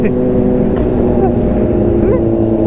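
Kawasaki superbike engine droning loudly and steadily on the road, its pitch rising and sweeping as it revs during a wheelie, with wind and traffic noise underneath.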